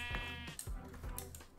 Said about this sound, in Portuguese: As ovelhas se perderam aí, ó.